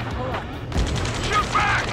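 Rapid gunfire bursts in the Ace Combat 7 rescue mission, loud and close, crackling in quick fusillades with a heavy boom partway through, layered under urgent shouted voices.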